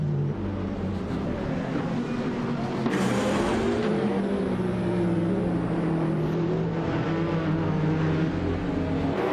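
Several 2011 Mercedes race car engines drone and whine together at the start of a game race, a steady loud roar with pitch rising partway through and a high whistle layered over it, no talk.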